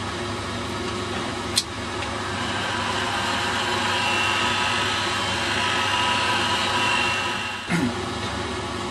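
A heat gun blows a steady broadband hiss across Auto Air paint on a Telecaster guitar body, held for about nine seconds without a break, with two brief clicks or knocks near the start and end.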